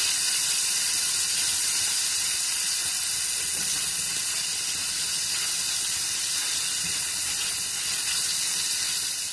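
Bacon frying in a pan: steady, loud, close hiss and sizzle filling the whole stretch with no talk.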